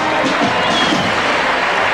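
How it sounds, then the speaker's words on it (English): Dense stadium crowd applauding a wheelchair athlete at the 1982 Commonwealth Games, a loud continuous roar of clapping and cheering. "And the crowd giving her a big welcome."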